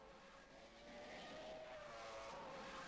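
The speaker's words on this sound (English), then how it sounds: "we can hear the V8 Supercar there" A V8 Supercar engine in a racing video game (rFactor 2, Silverstone) roars steadily, its pitch climbing as it accelerates, loud and continuous.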